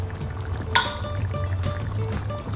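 Jarred chickpeas poured into a pan of cooked Spanish meatballs, a sudden wet splash followed by soft sloshing and liquid trickling under a low background hum.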